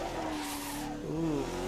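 Race car in Assetto Corsa at Fuji running over a curb, engine tones dipping and rising with a brief rough jolt and short tire squeal, heard close from the cockpit.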